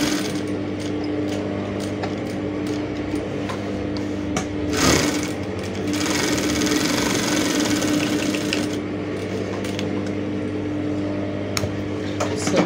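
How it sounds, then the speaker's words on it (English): A sewing machine stitches a fitted short pant, running as a steady, continuous mechanical whir with rapid needle clatter close up, with a brief louder burst midway and no talk. "So I'm just going to go ahead now and sew it like this."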